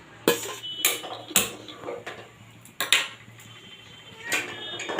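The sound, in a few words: fried potatoes being added to mutton curry in pot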